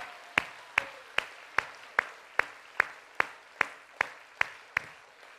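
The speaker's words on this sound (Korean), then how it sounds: "하나님께 영광의 박수 올리겠습니다." A church congregation claps in slow unison, a dozen or so sharp, evenly spaced claps about two per second, crisp and distinct against a quiet room.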